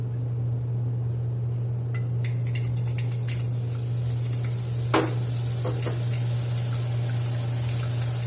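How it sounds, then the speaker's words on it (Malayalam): Gram flour batter for boondi sizzles steadily in a pan of hot oil. A continuous hiss carries a few sharp crackles and pops, with a low electrical hum underneath and no talking. "അപ്പോൾ നമുക്കിതിലേക്ക് കലക്കി വെച്ചിരിക്കുന്ന കടലമാവൊന്ന് ഒഴിക്കാം കേട്ടോ."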